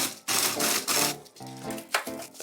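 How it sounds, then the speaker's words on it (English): A food processor blitzes cooled caramel and hazelnuts into a coarse powder in short bursts, with gritty whirring pulses that start and stop, close by and fairly quiet. "you can blitz it up into a coarse kind of powder"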